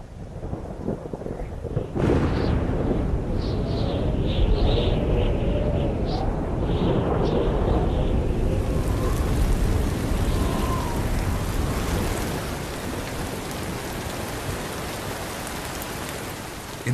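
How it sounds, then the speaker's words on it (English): A dry-season thunderstorm on the African savanna where lions live: a sudden crack of thunder, then dense rain pouring down, with rolling rumbles under the steady downpour. "In the dry season, storms can roll in quickly, but they don't last long."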